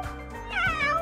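A single short, close meow voiced by a person imitating a cat, rising then falling in pitch.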